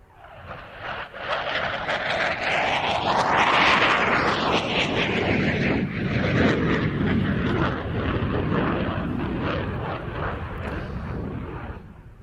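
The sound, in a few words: CF-188 FA-18 Hornet jet demonstration flight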